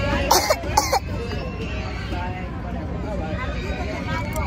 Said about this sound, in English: Coughing over hot chips.